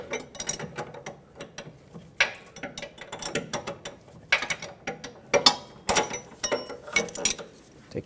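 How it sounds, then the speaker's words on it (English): Ratcheting clicks and metallic mechanism noises as an inner tie rod tool comes off the steering rack of a 2008-2020 Dodge Grand Caravan, sounding as quick, irregular bursts of close clicks with short pauses between them. "Now I'm going to take my tie rod tool off of here."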